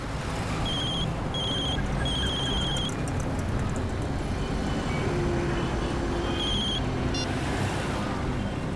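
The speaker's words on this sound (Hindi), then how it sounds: "सर, आपका फोन बज रहा है क्या?" A mobile phone rings in repeated short bursts over steady rumbling road or engine noise, with a brief electronic chime near the end.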